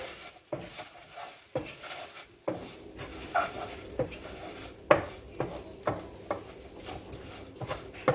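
Dry rice stirred into paella in a pan, heard as a steady series of close scraping and rattling strokes of the spoon against the pan, with faint sizzling underneath.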